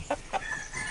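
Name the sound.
rooster crowing in a pen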